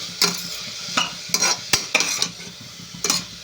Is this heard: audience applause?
no